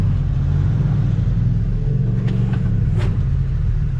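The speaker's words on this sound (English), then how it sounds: "Tires rubbing." An off-road vehicle rumbles steadily on sand, with a low engine drone throughout and a few brief scraping rubs of the tires near the end.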